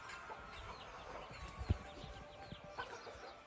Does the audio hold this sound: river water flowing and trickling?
no